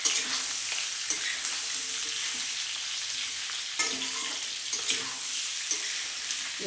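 Raw mango pieces, about 1.5 kilos, stirred in hot oil in a pan, giving a continuous close sizzle broken by repeated scraping strokes of a spoon at an uneven rhythm, no voices.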